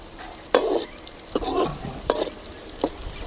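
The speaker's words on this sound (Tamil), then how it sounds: "கத்திரிக்காயை இந்த அளவுக்கு பொரிச்சு எடுத்துக்கணும்." Brinjal fries in oil in a pan with a steady sizzle, while rhythmic stirring scrapes and clatters at regular intervals, close and moderately loud.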